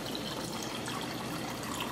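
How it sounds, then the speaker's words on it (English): Cold water running into a pot of boiled eggs, a steady even gush of pouring water, moderately faint and continuous, with no talking. "I just throw some more cold water in there"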